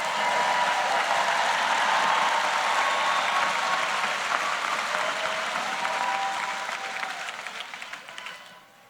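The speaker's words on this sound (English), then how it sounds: "give yourself a round of applause." An audience at a Rutgers School of Social Work convocation ceremony claps in steady, dense applause that holds for several seconds, then gradually fades out.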